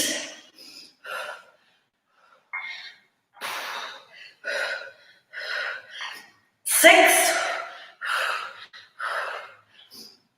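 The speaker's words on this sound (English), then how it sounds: "You guys can tell I'm struggling because of my breathing." Heavy, labored breaths sound between repetitions of a triceps workout, with sharp gasps and exhales coming close to the microphone, one especially forceful, while a person counts reps aloud.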